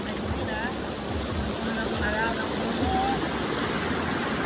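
Clear, cold river water flows steadily in a broadband rushing wash at close range, with faint bird chirps above.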